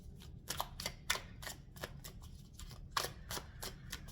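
Tarot cards riffle and snap in a quick, uneven series of soft crisp flicks while being shuffled, close by and fairly quiet.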